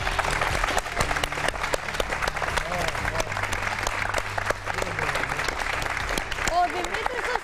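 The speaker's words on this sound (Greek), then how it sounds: "Χειροκροτήστε εσείς δυνατά." A studio audience at a televised birthday celebration claps loudly and continuously, a dense steady roar of applause with a voice faintly underneath throughout.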